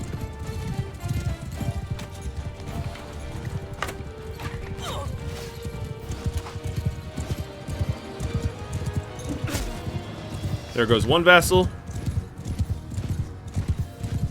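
Horses gallop with steady clip-clop hoofbeats in a Mount and Blade Bannerlord battle, a brief whinny and clatter rising near the end while a voice talks over the riding.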